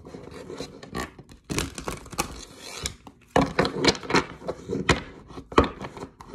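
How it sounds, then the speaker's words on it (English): Tarot cards being shuffled by hand, giving repeated papery riffling and rubbing bursts in short clustered runs. It is close and fairly loud, with brief pauses between the bursts. "One more shuffle."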